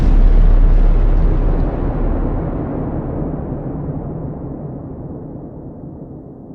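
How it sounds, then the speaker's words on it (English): An atomic bomb detonates in one massive, loud boom with a deep low-end roar that slowly fades away over several seconds, with no voices present. "they haven't used the bomb yet and are curious to see if it works, so they drop it on Japan"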